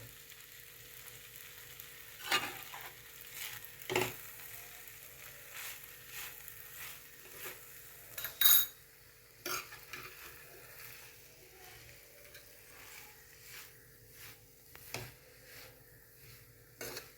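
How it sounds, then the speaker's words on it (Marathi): Rice for a tomato pulao is stirred and sautéed in a pot with salt, giving a quiet steady sizzle broken by occasional scrapes and clinks of the spoon against the pot. "आता हे आपले तांदूळ सगळं परतून झालं आहे"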